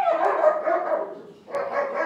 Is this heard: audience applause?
no